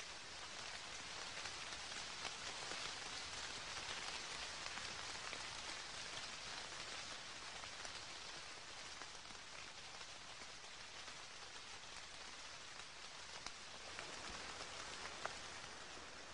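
Rain pours steadily outside a beehive, a dense hiss of countless drops striking surfaces, even and continuous throughout with occasional sharper individual splats, fairly soft and heard alone.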